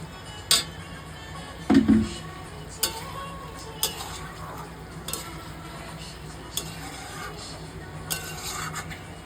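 Soaked paneer pieces are stirred and coated in a pan, producing sparse, close clicks and scrapes of a spoon against metal at irregular intervals over a low background.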